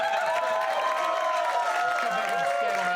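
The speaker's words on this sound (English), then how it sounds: "Give it up for Ashley. Give her a round of applause." Studio audience on a comedy panel show applauds and cheers for Ashley, a steady wash of clapping with raised voices running throughout.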